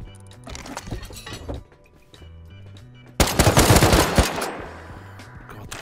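Gunfire in a survival video game, starting with scattered shots and bursts, then a loud, sustained rapid volley with sharp cracking and shattering impacts in the second half, up close and dominating a faint musical backdrop.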